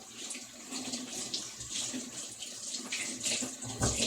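Food being washed under a running kitchen tap, water streaming steadily and close with a brief splashy surge near the end, no one speaking.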